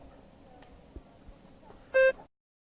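A short electronic test-prompt beep from a TOEFL speaking practice exam sounds once, a clean steady tone of about a fifth of a second over faint background hiss, then silence.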